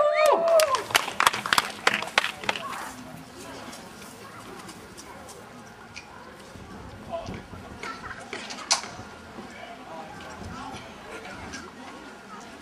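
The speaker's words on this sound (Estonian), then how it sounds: "Ovatsioone, ovatsioone, ma ei kuule ovatsioone." Outdoor family day audience gives a burst of clapping and ovation, strong over the first few seconds and then thinning to scattered claps amid crowd chatter and children's voices.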